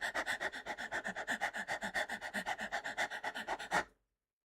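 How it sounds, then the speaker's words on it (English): A puppy pants rapidly and rhythmically, about six quick breaths per second, close and fairly quiet, ending abruptly in silence. "I need to increase that puppy pant like by 3 times."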